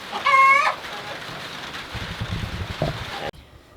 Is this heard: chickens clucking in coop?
yes